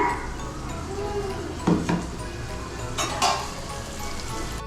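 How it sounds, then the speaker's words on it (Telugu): Masala paste for Andhra-style fish curry frying in a pan, a dense steady sizzle with a few spoon scrapes against the pan, with a dog's bark and a voice faintly in the background. "ఇది కొంచెం పచ్చి వాసన పోయేదాకా ఫ్రై చేసుకోవాలి."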